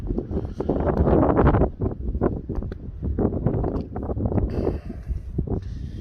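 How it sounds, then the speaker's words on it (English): Strong wind gusts buffet the microphone outside a church at night, a loud, steady roar with rising and falling rushes and no clear voices. "oh, that's the wind. That is the wind. That's the wind."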